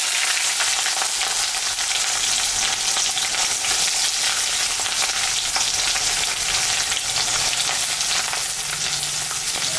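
Onions dropped into hot oil with bay leaves, whole garam masala and dried red chillies, the base for a mutton curry: a loud, continuous close-up sizzle and spatter lasting throughout, with no voices.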